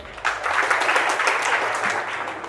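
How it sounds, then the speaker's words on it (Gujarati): A crowd at a community family gathering bursts into loud applause, a sudden thick wash of many hands clapping that holds steady without talk. "જોરદાર તાળી આપી નાખો."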